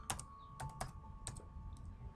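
A handful of separate key presses on a computer keyboard, crisp clicks spaced unevenly over a couple of seconds, close and quiet over a faint steady hum.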